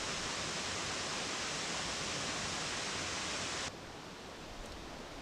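Dill Falls, a hidden waterfall in North Carolina, roars as a steady broadband rush of falling water heard from its base, loud and continuous, then abruptly softer near the end.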